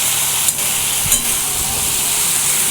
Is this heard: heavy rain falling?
no